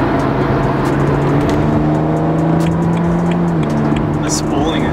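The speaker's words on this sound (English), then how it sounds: "The spooling is loud too." A BMW Z4 E89 engine drones loud and close with steady tones and turbo spooling, while people talk over it.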